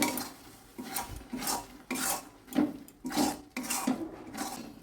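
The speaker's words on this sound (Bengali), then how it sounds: "একটু জিরে গুঁড়ো, লবণ দিয়ে মিশিয়ে নিলাম।" A utensil stirs cumin powder and salt into palak paneer in a pan, making about seven rhythmic scraping strokes close by, with no talking.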